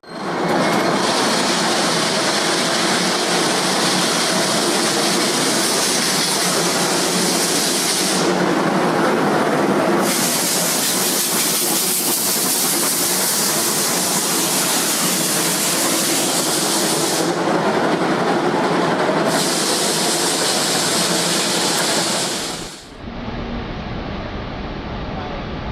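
A Japanese steam locomotive on its final run before retirement, heard as a loud, continuous roar and hiss of the moving train that holds steady for over twenty seconds, then drops abruptly to a quieter rumble near the end.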